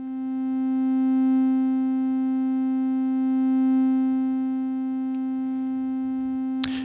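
SOMA SimplexFM synthesizer in cyclic envelope mode holding a steady, bright harmonic tone that slowly swells and recedes in two gentle waves, alone and fairly close, ending with a brief click.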